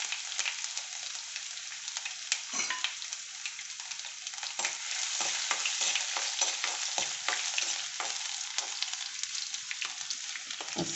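Garlic frying in hot oil for brinjal fry, a bright continuous sizzle with repeated spatula scrapes and stirring strokes, close and steady for the whole stretch.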